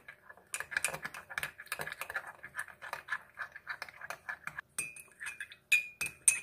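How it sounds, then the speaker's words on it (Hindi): A spoon briskly mixes jalebi batter with yeast and sugar in a bowl, rapid clinking and tapping strokes in a quick irregular rhythm, close and crisp. "अब इसको अच्छे से मिक्स कर लेंगे"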